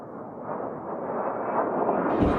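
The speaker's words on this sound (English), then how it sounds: "The powerful sound of Brrrrt comes from the GAU-8 Avenger when it is fired." An A-10 Warthog's GAU-8 Avenger 30mm rotary cannon firing, a continuous dense roaring burst that holds steady for about two seconds, loud and alone.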